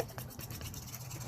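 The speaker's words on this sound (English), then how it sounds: "Make sure you beat up those eggs." A whisk beats eggs, vegetable oil and cake batter in a bowl, a quick, soft, rhythmic scraping and swishing heard close up for a moment.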